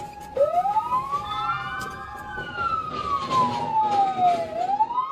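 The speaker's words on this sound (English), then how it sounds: "Go ahead and reactivate your lights and sirens there," Police car siren wailing in long rising and falling sweeps during a pursuit of a stolen construction vehicle, loud and close, with road noise beneath.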